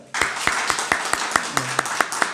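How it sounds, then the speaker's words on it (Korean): Members of a small church congregation clap in congratulation, a sparse run of distinct, fairly regular handclaps close by, with a brief low hum partway through. "우리 두 분께 우리 축하의 박수 한번 드릴까요?"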